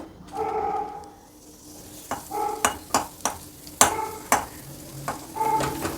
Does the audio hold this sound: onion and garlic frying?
yes